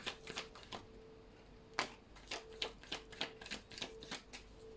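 Tarot cards are shuffled by hand for a final draw, a quiet run of crisp riffling bursts and flicks repeating close by with no talk.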